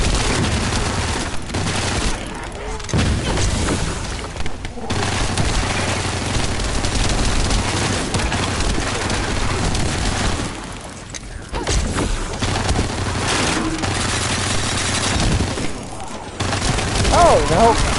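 Automatic gunfire in the shooter game The First Descendant, dense rapid bursts that run almost continuously with short pauses, loud and close, while a player talks over it.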